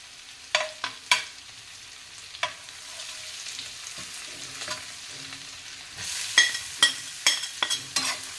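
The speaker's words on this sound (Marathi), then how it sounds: "कांदा लाल होईपर्यंत आपल्याला कांदा चांगला भाजून घ्यायचा आहे" Finely chopped onion with garlic paste sizzles steadily in a pan for pav bhaji, broken by intermittent scraping clinks of a spatula stirring, with a cluster of louder stirring knocks toward the end.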